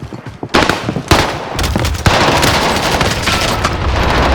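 Owen Gun submachine gun fire in a video game, loud rapid bursts crackling in several volleys against continuous battlefield noise.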